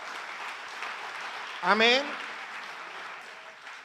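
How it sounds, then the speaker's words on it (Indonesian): A church congregation at a GBI Sunday worship service in Batam breaks into steady, loud applause, with a single voice briefly calling out over the clapping. "Yang setuju beri tepuk tangan dulu untuk Tuhan kita."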